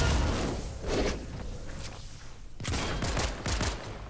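Rapid bursts of gunfire in a Fortnite match, shots fired at another player, loud and close with a few repeated volleys and scuffling movement sounds between them.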